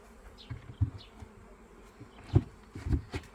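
Honey bees buzzing close by at an apiary hive, a low droning hum with several louder swells as bees pass near, mixed with faint knocks and shuffling.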